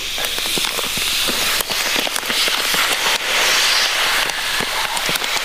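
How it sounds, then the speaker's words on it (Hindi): Steady broadband hiss of air rushing into a vacuum container, continuous and fairly loud, with scattered crackling pops throughout. "एयर जो है वो अंदर जा रही है लगातार।"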